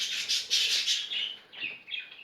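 Budgerigar chirping in quick, high twittering bursts, fairly close, with short pauses between calls and no voices.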